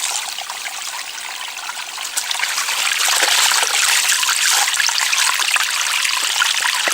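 A cloth is worked through cold running water in a jungle stream, with a steady close rush and trickle that grows fuller and louder partway through, and no speech.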